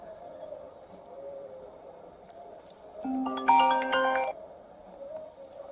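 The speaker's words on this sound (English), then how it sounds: "I thought that was my phone ringing." A phone ringtone plays a short melodic tone sequence for about a second, clear above quiet background chatter outdoors.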